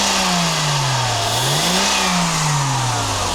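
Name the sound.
Mercedes W126 300SE engine revving during test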